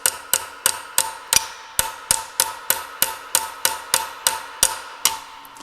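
Hammer pounding a rivet on John Deere brakes with a riveting tool, about fourteen sharp, evenly spaced metallic blows close by, alone without talk.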